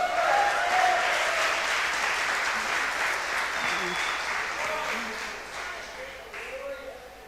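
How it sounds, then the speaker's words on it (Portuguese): Church congregation breaking into loud, sustained applause in a large room, a dense wash of clapping that slowly tapers off toward the end, with faint voices underneath. "Uma salva de palmas, irmãos, a mulher levantou."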